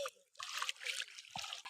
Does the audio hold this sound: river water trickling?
yes